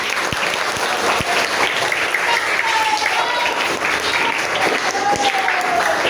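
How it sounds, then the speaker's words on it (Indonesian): A classroom of pupils at an Indonesian Islamic primary school claps for a classmate during a lesson, a loud, close, continuous applause with a few sharp individual claps standing out and faint voices mixed in. "Tepuk tangan dulu untuk Mas Rama."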